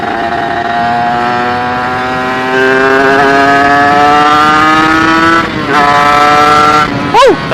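A motorcycle engine fitted with a new UMA PWK carburetor revs loudly and close, its pitch climbing steadily, then dropping and surging again in short blips near the end.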